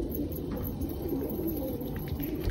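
A newly released pet pigeon coos softly, a low, throaty murmur buried in steady broadband background noise close to the microphone, with no voices.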